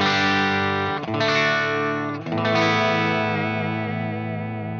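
Clean electric guitar through a Friedman amp and a Boss DD7 digital delay, playing sustained chords that ring out alone, with delay repeats trailing and fading over several seconds.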